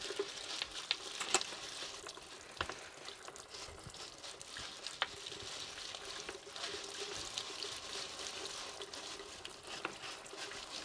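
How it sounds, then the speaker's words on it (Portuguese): Running tap water pours steadily through a sieve as passion fruit seeds are rinsed to strip off their mucilage, a continuous close trickle and patter lasting the whole stretch with no talk. "Então agora a gente passa uma água agora."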